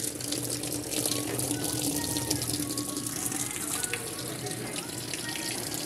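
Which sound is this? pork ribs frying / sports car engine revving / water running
water running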